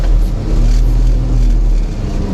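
A walnut harvesting machine's engine roars loud and close as the throttle opens, a steady, heavy rumble with no break and no voices.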